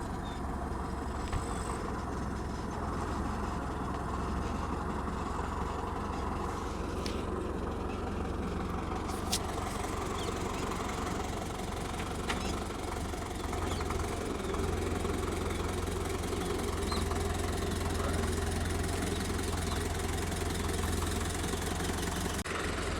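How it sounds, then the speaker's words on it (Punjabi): A tractor engine rumbles continuously while pulling during tree felling, loud and close, with a deep low drone and occasional clanks over the running motor. "ਟਰੈਕਟਰ ਨਾਲ ਖਿੱਚੀ ਜਾਂਦੇ ਆ"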